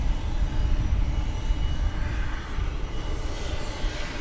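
Trijet MD-11 airliner engines roaring steadily at DFW Airport, a loud, continuous broadband rumble with no pauses, alone without voices.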